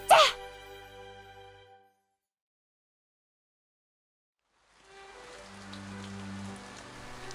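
Rain in the visual novel Kinkoi: Golden Loveriche patters as a steady soft hiss. It fades in after a short voice and a few seconds of silence and continues evenly to the end.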